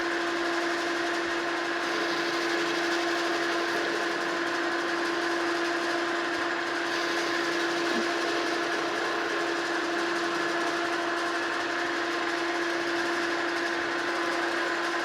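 A metal shaft being cut on a metal planer, with a steady mechanical hum and a high tonal whine running evenly throughout and no talking.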